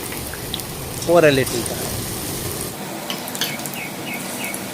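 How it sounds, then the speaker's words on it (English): Batata vada deep frying undisturbed in hot oil, a steady bubbling crackle running the whole time while a voice speaks briefly over it. "Let them deep fry undisturbed"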